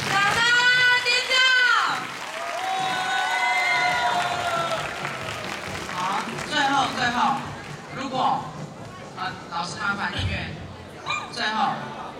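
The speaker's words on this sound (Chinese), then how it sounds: "掌声尖叫！" Applause and cheering from the audience at a singing competition, building from a crowded, lively mix of clapping and excited voices, with shouts and chatter continuing throughout.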